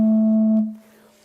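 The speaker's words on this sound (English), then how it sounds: "Now here's another one of those California sugar pine flutes made in about" A single sustained, pure flute-like tone from a California sugar pine wooden flute pipe of an E.M. Skinner organ, built around 1925 to 1927, holds steady, then fades out with a soft release into room ambience.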